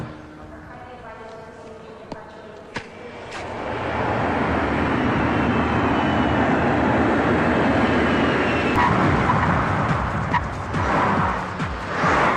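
An airplane's engine roar rises after a few seconds into a loud, steady rumble during a comedy film scene, with voices talking before and under it.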